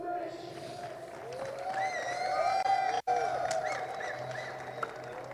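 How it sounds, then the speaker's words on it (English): A crowd at a motor racing trackside ceremony applauds the race 1 winner, a steady wash of clapping and cheering heard at moderate distance under a voice. "Please give a huge round of applause to our winner in race 1, Joel Mesh"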